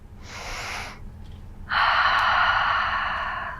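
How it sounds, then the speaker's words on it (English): Slow, deep human breathing up close: a short, airy inhale, a pause, then a longer, louder rushing exhale, with no words spoken. "Breathing."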